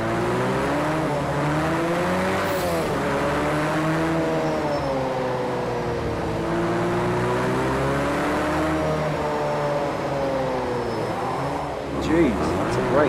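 Race cars in Project Cars 2, a KTM X-Bow R among a field of thirty on the Long Beach street circuit: steady, loud engine drone with rising and falling revs throughout, someone talking over it.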